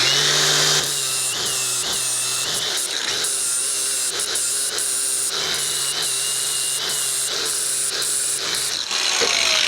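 A cordless angle grinder cuts metal for a mini bike chopper's disc brake conversion, a loud, sustained high whine broken by brief stops and restarts, close and with no voices.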